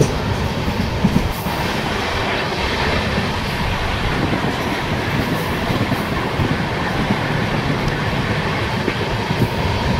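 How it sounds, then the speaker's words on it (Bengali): Kanchan Kanya Express train racing at high speed on the Siliguri to New Mal Junction line, a steady loud rolling roar with rattling carriages and faint rhythmic wheel clatter throughout, no voices. "ট্রেন কিন্তু প্রায় 95-98 ছুঁয়ে ফেলেছে"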